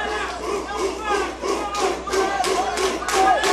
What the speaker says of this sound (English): We hear the pro Nova Unyao crowd here cheering their boy on from top position.